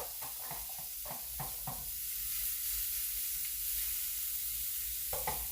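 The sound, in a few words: shrimp and vegetables sizzling on griddle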